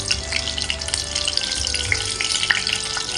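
Fenugreek seeds fry in hot oil in a pan, giving a steady close sizzle and crackle that runs alone throughout, with scattered small pops.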